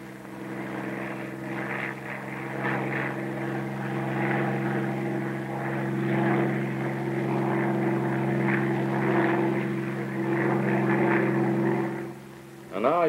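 Bell P-39 Airacobra fighter in flight, its steady propeller-engine drone holding a constant pitch throughout, with a brief dip and surge near the end.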